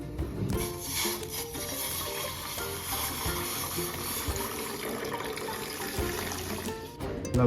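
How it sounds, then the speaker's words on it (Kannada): Water pouring in to make ayurvedic kaada tea with turmeric, ginger, cinnamon, clove, pepper, tulsi, bay leaf, fennel and raisins: a steady, close, continuous splashing flow that runs the whole time. "ಅದ್ರ ಜೊತೆ ನೀರು"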